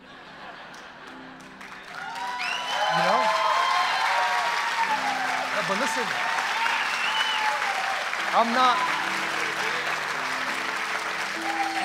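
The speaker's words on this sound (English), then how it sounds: "I'm not doing this for the applause." An audience at a personal-story talk bursts into sustained applause that rises after a quiet start and carries on steadily, while someone speaks over it.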